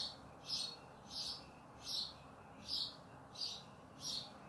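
Six evenly spaced high bird chirps from outside an open window repeat at a steady rhythm, faint and distant, over a quiet background hiss.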